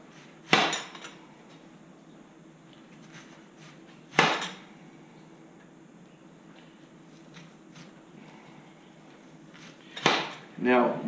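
A knife chops down onto a cutting board while slicing guacamole ingredients, three sharp isolated knocks spread several seconds apart, with a quieter double tap at the end over faint background hum.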